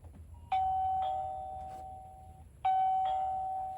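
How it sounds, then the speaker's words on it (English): Smart wi-fi doorbell camera ringing indoors, two clear electronic ding-dong chimes about two seconds apart, each tone ringing out and fading, with no talk. "So I'm gonna test it and see if I hear the bell ring."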